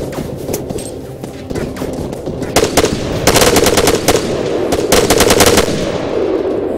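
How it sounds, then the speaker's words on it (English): Loud sustained machine gun fire in the Arma 3 military shooter, rapid bursts of automatic shots layered over dense battle noise with scattered single gunshots, continuous and close throughout. "Machine gun, 100 meters west."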